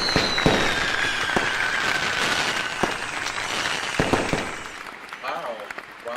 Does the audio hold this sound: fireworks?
yes